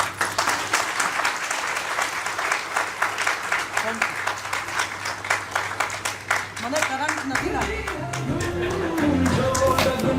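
An audience of listeners at a Gujarati talk applauds, with dense, sustained clapping filling the first seven seconds before it thins out as a voice begins speaking over the last few seconds.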